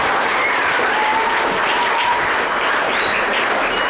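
Sustained, even applause from a crowd honors a young striker at a primary school soccer celebration, a loud continuous wash of clapping with faint voices and whistles threaded through it.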